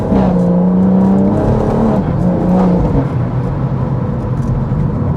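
A 500 bhp BMW M140i engine revs hard and accelerates, its loud droning pitch climbing and shifting as the car picks up speed.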